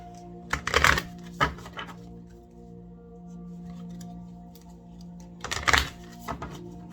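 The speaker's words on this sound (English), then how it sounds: "I keep having trouble shuffling these decks" Deck of oracle cards being shuffled by hand, two brief rustling, riffling bursts a few seconds apart over a quiet steady hum, with no speech.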